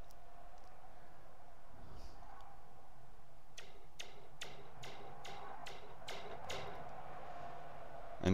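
Laser shot sound effects play back in Blender 3D as a rapid series of about eight short, sharp clicking zaps in quick succession, fairly quiet over a low steady background hiss.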